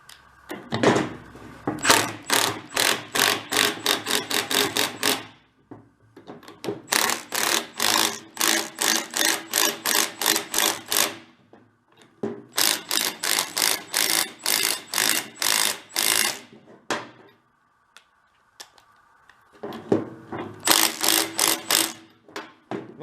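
Rapid ratcheting of a socket wrench tightening the inner joints on a parked-for-decades VW Bug, coming in three long bursts of fast, close metallic clicks with short silent pauses between them.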